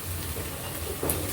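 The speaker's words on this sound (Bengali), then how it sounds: "আদা রসুনের পেস্ট দেওয়া হয়ে গেলে আমি এটাকেও ভেজে নেব পেঁয়াজের সাথে।" Ginger-garlic paste frying with onions in a pan for a rohu fish-head muri ghonto curry gives a steady, close sizzle throughout the brief stretch, with a slightly louder burst near the end.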